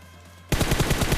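Rapid automatic gunfire in the mobile battle-royale game PUBG Mobile bursts in loud and close after half a second of quiet, rattling on in a steady fast rhythm to the end.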